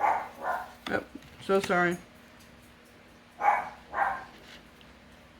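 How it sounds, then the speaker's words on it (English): Chihuahuas bark in a few sharp bursts close by, with a person speaking briefly between the barks. "You can hear my dogs barking. I got chihuahuas"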